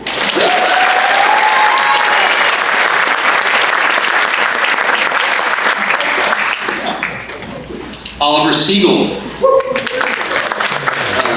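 A crowd at a residential college graduation ceremony gives loud, dense, sustained applause that fades as a voice begins speaking near the end.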